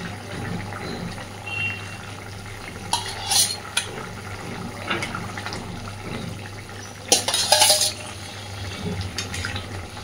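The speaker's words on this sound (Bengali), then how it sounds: "তো এবার সমস্ত আস্তে আস্তে ভেজে রাখা মাছগুলো দিয়ে দেবো এর মধ্যে।" Pieces of fried catfish go into a simmering curry in a pan, with soft stirring, scraping and sizzling, and two brief louder clattering bursts as the fish drops in and is moved about. No one speaks.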